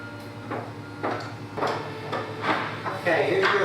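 An assembled wooden drawer is handled at close range, giving several knocks and sliding wooden clunks at an irregular rhythm.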